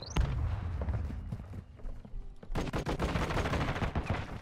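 Rapid gunfire in the video game Modern Warfare 2, a dense series of loud, close shots in two bursts separated by a brief lull.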